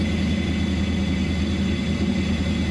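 An off-road rock racing vehicle idles steadily at a race event, a constant low rumbling drone with a faint whir, close and without speech.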